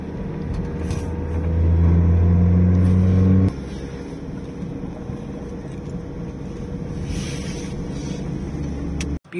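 A car drives steadily through the Sicilian countryside, its engine droning loudly up close, with a pitch shift partway through as it changes speed, and continuous road and wind noise.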